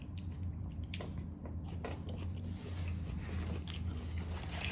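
Crunchy vegetable from a self-heating hot pot chewed close to the mic, a series of crisp, irregular bites and crunches over a steady low hum, with no talking.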